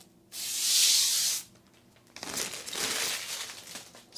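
Protective plastic tape peeled off the glass side panel of a budget Zalman ATX PC case, a loud crackling rip lasting about a second, followed by softer rustling and crinkling of the film.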